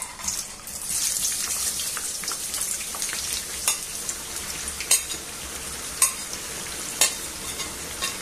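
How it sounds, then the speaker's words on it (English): Potato chips frying in hot oil give a steady, bright sizzle and bubbling throughout, with a few sharp knocks and scrapes standing out near the end. "Okay then, let's fry some chips."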